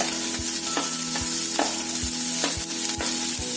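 Sweet corn and mushrooms being stirred in a hot pan, with a steady sizzle and periodic scraping strokes of the spoon at a regular rhythm, close and clear, with no voices.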